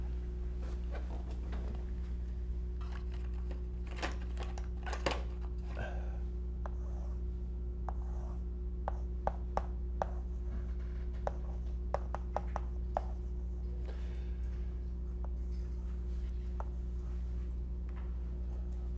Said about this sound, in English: Let me draw a picture.